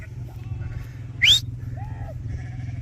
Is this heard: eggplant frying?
no